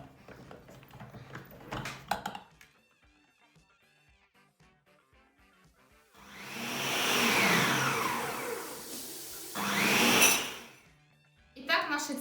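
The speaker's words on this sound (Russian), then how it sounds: "И сейчас я хочу еще раз перемешать тесто." An electric mixer beats carrot cupcake batter, whirring loudly for about five seconds with a rise and fall in pitch. A person talks before the motor starts and again briefly after it stops.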